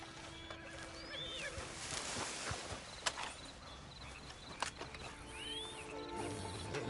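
A horse in Red Dead Redemption 2 gives a couple of whinnies over the clip-clop of hooves, set against soft rustling ambience with a few sharp mechanical clicks.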